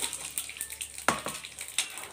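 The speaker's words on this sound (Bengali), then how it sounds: "জিরা দিয়ে দিব, গুঁড়া জিরা কটা দিয়ে দিব তেলে" Ground cumin sizzles in hot oil with a close, crackling hiss, punctuated by a few sharper pops and light stirring knocks, no voices.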